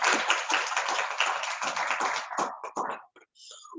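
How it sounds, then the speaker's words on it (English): An audience breaks into a round of applause, dense clapping that builds for a few seconds and then thins out into scattered last claps. "That deserves a round of applause."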